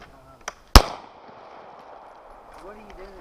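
Gunfire at an outdoor shooting session, a faint pop followed by one sharp, loud gunshot with a short ringing decay, then quiet with faint background sounds.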